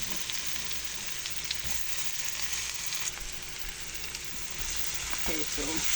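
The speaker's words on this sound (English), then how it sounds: "I'm going to go in with the melon skin because these are harder" Melon skin frying in curry in a pan gives a continuous, even sizzle up close, with a short bit of spoon scraping and soft movement near the end.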